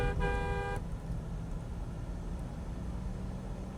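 A single short, sharp honk from an MG Majestor SUV horn, close and loud, fades into a low, steady vehicle rumble.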